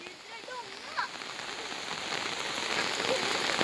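Heavy rain pours down in a forest, a dense, steady hiss of drops on leaves and ground that swells slightly louder over a few seconds, with faint traces of voices beneath.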